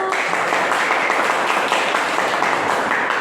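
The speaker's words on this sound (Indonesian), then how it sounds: "Oke, tepuk tangan dulu." A classroom of students applauds after a group presentation, with dense, continuous clapping at steady loudness throughout.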